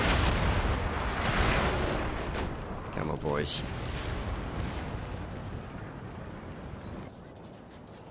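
Cannon artillery booms rumble through a Napoleon: Total War battle as dense, distant, overlapping roars mixed with battlefield din. One sharper burst stands out midway, and a voice calls out once.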